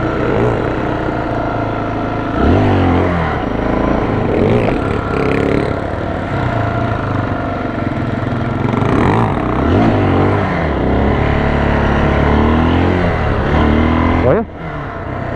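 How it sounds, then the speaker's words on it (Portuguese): A motorcycle engine revs hard on a street in repeated rising bursts, loud and close, with people talking and shouting over it. "A moto é bruta, hein, rapaziada? O bagulho é alto, mano."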